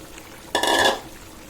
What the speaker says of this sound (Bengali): এবার আমি ছোট ছোট করে কেটে রাখা আলুগুলো দিয়ে দিচ্ছি।